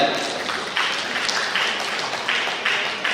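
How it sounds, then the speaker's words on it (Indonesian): A crowd at a municipal development planning meeting in Pekanbaru claps steadily, a dense patter of applause at moderate distance with a few louder bursts. "Tepuk tangan Bapak Ibu sekalian"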